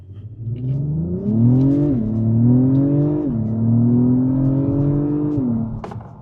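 An Acura TLX Type S V6 in Sport Plus mode revs and accelerates hard under launch control, the engine note climbing through several rising sweeps with clear shift drops between them, loud and close from inside the car.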